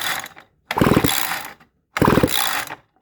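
Recoil starter on a McCulloch 605 chainsaw being pulled twice, each a ratcheting, whirring crank about a second long separated by a brief pause, close and loud, with no engine catching.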